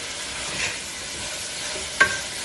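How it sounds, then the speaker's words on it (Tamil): Curry leaves drop into onions frying in hot oil, giving a steady close sizzle with a brief stir near the start and a sharp crackling burst toward the end. "இதுல கருவேப்பிள்ளை போட்டுக்கோங்க"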